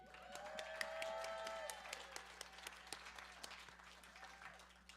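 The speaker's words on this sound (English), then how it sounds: "Let's have a huge round of applause for the arts in Washington State" Quiet audience applause at a Bushwick Book Club arts night in Seattle, a soft patter of clapping with a steady hum beneath it, heard at a distance.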